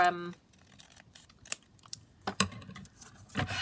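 Paper page edges are trimmed for handmade flippy pads, giving several crisp snipping cuts and light paper rustles close by, with a brief voice at the start.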